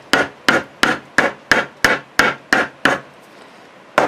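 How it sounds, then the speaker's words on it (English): A soft rubber hammer taps a guitar fret down into its slot, nine evenly spaced close knocks in a steady rhythm, then a short pause before one last tap. "we take our rubber hammer, it's nice and soft, and we just send it home into the slot"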